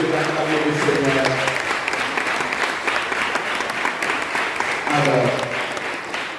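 A congregation at a Mass breaks into applause and cheering, a full round of clapping that swells near the start and again toward the end while a voice speaks over it.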